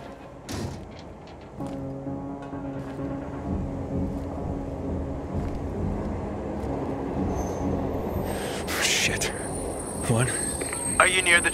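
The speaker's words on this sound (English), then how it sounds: "Train? Right next to it. It stopped at the station." A train in the video game Dying Light 2 rolls into a station and stops, with a steady low rumble and mechanical hum throughout, occasional clanks, and voices partly over it.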